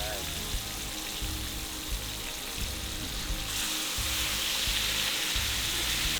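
Chicken pieces sizzle and crackle steadily in hot oil, a dense frying hiss that brightens partway through, with a faint voice in the background.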